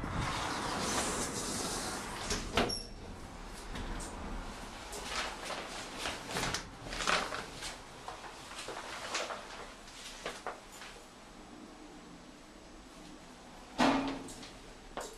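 A platform lift at Sandwell & Dudley station platform 1, rated 1,000 kilos and 13 persons, with its doors clunking and the car humming and rattling as it travels back down, a few sharp knocks and door bumps standing out over the steady drone.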